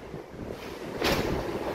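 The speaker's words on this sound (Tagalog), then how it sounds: "Pero ang lakas ng hangin." Strong typhoon wind buffets the microphone in a steady roar, swelling into a sharper gust partway through.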